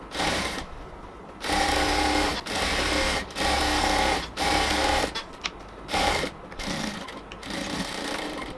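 Sewing machine stitching a seam along the other side of a ladies' salwar pant, running in several steady bursts of a second or so with short pauses between, close and clear with no talking.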